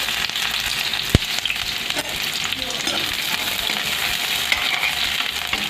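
Chopped onions frying in hot oil with a bay leaf in a kadai for Assamese ghuguni, giving a steady, loud, close sizzle throughout with one sharp click near the start.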